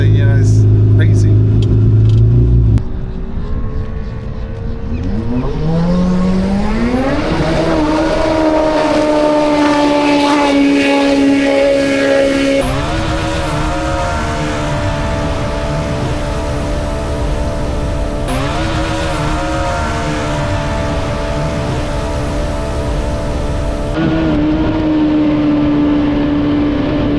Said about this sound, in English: that looks pretty fast for a boat taking off